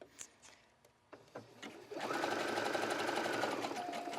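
A sewing machine stitches elastic onto a tulle skirt, starting with a few fabric rustles and taps, then a steady fast whirring run at close range; no talking.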